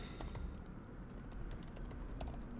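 Fingers tap steadily on a computer keyboard in a quick, uneven patter of light clicks, close and continuous, with no voices over it.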